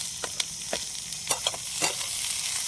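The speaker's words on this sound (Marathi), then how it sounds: "आता टाकून घेऊ याच्यात कांदा. कांदा मस्त लाल होईपर्यंत भाजून घेऊ." Onion goes into hot oil with browned garlic cloves for a Marathi onion chutney, giving a soft sizzle broken by a few sharp stirring clicks and scrapes of a utensil.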